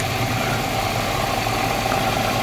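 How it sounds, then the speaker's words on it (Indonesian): An engine idles steadily during a quick condition check for rough noises, an even, smooth mid-pitched hum with a faint vibration, close and unbroken, with no talking over it. "kita dengarkan suara mesinnya, apakah ada suara-suara yang kasar atau tidak ya, harus cenderung halus"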